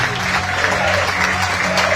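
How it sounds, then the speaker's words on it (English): Crowd applause at a Scottish inter-district rugby championship finals day as The South team leaves the field, steady sustained clapping from a stadium crowd over the full stretch. "Applause to the South team as they come off."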